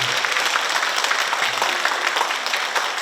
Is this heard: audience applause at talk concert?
yes